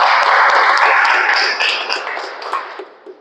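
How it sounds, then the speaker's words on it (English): Applause fills a meeting room for its guests, a dense wash of many hands clapping at once that slowly thins and fades away toward the end. "So can we have a round of applause for them?"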